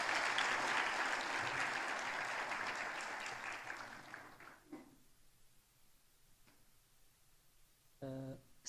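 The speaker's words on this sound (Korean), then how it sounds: "박수로 한번 축하하겠습니다." A church congregation applauds in celebration, the clapping loud at first and gradually fading out, followed by a brief voice and another short burst.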